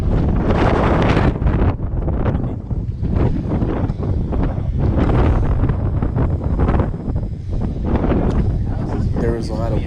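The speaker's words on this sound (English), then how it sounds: "There was a lot of wind here" Strong gusty wind buffeting the microphone beside a lighthouse, loud continuous roaring bursts that surge and fade, with a voice speaking partly underneath.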